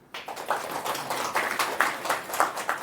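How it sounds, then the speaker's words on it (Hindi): An audience at a Brahma Kumaris spiritual gathering in Surkhet, Nepal, claps along in rhythm: moderately loud, evenly spaced bursts of handclaps repeat steadily. "ताली तो बजाओ।"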